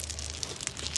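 Stone chippings aggregate, a universal-size building material in Ghana, shuffled and crunched by hand, giving a dense gritty rustle with small sharp crackles, close and steady for about a second.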